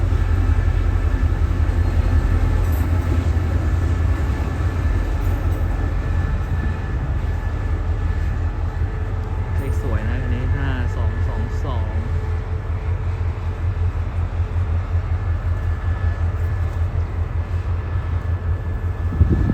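A train rumbles steadily at close range, a continuous low mechanical roar with faint wheel and engine tones, while people talk over it.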